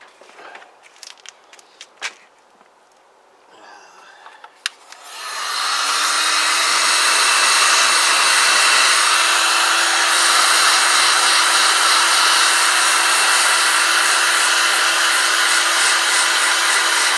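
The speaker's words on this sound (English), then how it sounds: "I'm going to get my heat gun out, see if we can soften that up a bit" Light handling clatter and clicks come first, then a heat gun switches on for softening a rubber hose on a Tamoretti Retro 50 scooter's carburettor and blows a loud, steady whirring roar to the end.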